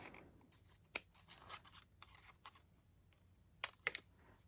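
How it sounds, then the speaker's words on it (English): Scissors snip through paper for a Halloween bat craft: a handful of short, crisp cuts spaced irregularly against a quiet room, with no talking. "went at it with the old scissors"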